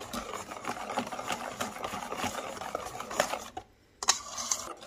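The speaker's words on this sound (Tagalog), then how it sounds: "Then mix it very well." Banana cake batter being mixed with double cream, a steady clattering and scraping of utensil against bowl, busy and close, with a short pause near the end before a couple of sharper clinks.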